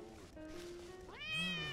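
A cat in the video game Monaco gives a drawn-out meow followed by a louder, rising second meow, close and clear.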